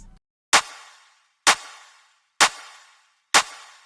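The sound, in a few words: layered clap samples on beats two and four in FL Studio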